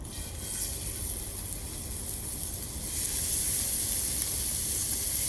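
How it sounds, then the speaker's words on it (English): Steady sizzling hiss of pork frying in a hot pan, continuous and close, growing a little louder partway through. "Hear that sizzle?"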